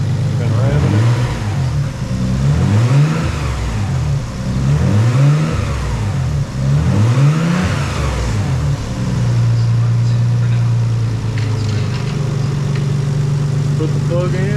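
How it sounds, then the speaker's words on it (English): A Nissan 300ZX with a turbo swap is revved repeatedly, giving about four loud rising-and-falling blips in a steady rhythm, then settling into a steady idle hum. "We've been revving it."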